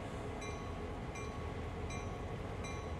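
A train runs in Train Sim World 2020 on the Oakville Subdivision, a steady loud rumble of rolling wheels with faint periodic high squeals, continuous and without voices.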